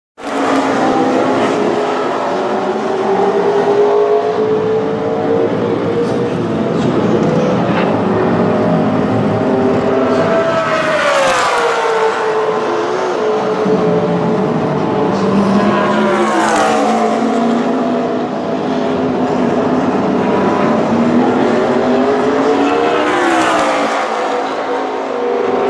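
NASCAR-style race trucks on practice laps at a speedway, a continuous loud engine roar with several trucks swelling and sweeping past in rising-and-falling passes, recurring every few seconds without talk.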